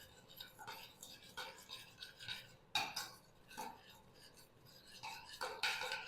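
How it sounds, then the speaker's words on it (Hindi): A spoon stirs chili sauce into an onion salad masala in a bowl, giving repeated scraping, clinking strokes in uneven bursts, fairly close and alone without talk. "सिंपल अच्छे तरीके से मिक्सिंग कर लेंगे।"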